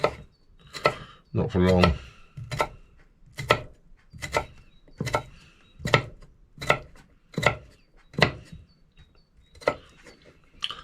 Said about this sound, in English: I just take my potatoes and chop them up finely